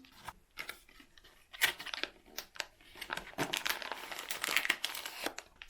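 A Belgian truffle chocolate wrapper being opened by hand, quiet and close: irregular crinkling and crackling bursts of plastic or foil, denser toward the end, with no talking.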